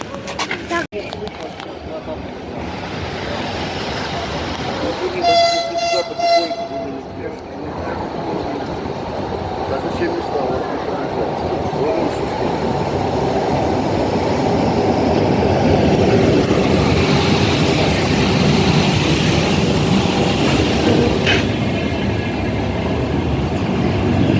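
Ukrainian passenger train on the overnight Dnipro to Yaremche route, a steady loud rumble of running wheels and carriage noise lasting throughout, with people chatting and laughing close by.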